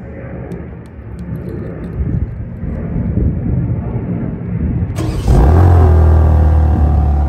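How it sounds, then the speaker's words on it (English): A 2023 BMW M3 Competition xDrive, started remotely by key fob, fires up after a few seconds of quiet outdoor ambience, its engine catching with a loud burst and settling into a deep, steady idle. "to start it with the key fob, press it three press the lock button or BMW logo three times in quick succession"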